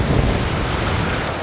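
Ocean wave breaking along a calm, clear-water Indonesian coast, a brief dense roaring wash of broadband noise, loud and close, with no voices.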